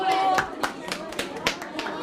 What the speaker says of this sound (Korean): 자, 우리 호빈이한테 박수!